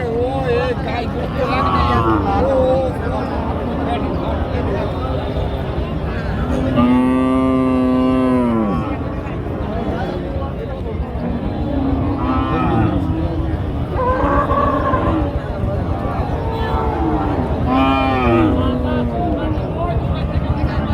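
Cows at a crowded cattle market low loudly several times, one long moo standing out, over constant crowd babble and nearby talking.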